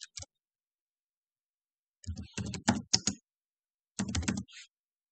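A computer keyboard is typed in two short bursts of rapid clicking separated by silence, with a couple of isolated key taps at the start, close and clear.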